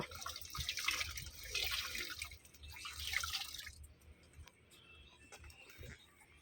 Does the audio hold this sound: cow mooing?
no